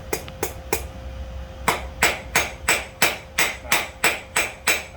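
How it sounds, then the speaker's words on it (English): A hammer strikes hot steel to forge and roll the rat-tail end of an S hook, with a quick trio of taps followed by a steady run of about ten ringing blows, loud and close. "roll it with a hammer like this"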